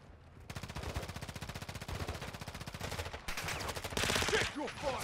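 Sustained automatic gunfire in the Call of Duty DMZ video game: a steady, rapid stream of shots hammers on for several seconds, then turns louder and denser near the end.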